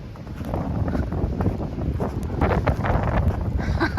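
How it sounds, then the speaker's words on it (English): Blizzard wind gusts roar steadily and close against the microphone during a snowy drive on Route 132 on the Gaspé Peninsula, a dense continuous rush with no speech. "Because just so much wind, so much snow."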